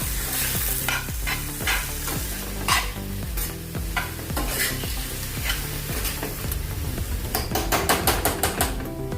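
Vegetables for a seasonal vagati bhaji with bitter greens, seasoned with salt and turmeric, stirred steadily in a cooking pan: a loud, continuous sizzle with repeated scraping strokes of the spoon against the pan and a few sharper clinks near the end.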